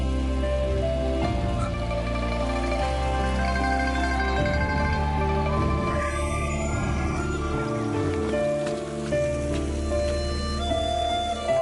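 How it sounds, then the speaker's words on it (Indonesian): Heavy rain pours steadily outside, a constant dense wash that runs the whole time beneath strong tonal background music. "di luar hujan sangat deras"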